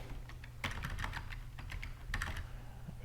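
Brisk typing on a computer keyboard, a quick irregular run of light key clicks in two clusters, close and fairly quiet against a soft steady hum.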